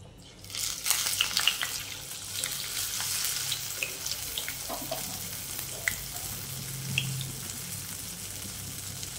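Medu vada frying in hot oil, a steady close sizzle and bubbling that sets in after a quiet first second and holds at an even level, with a few light clinks and no talking.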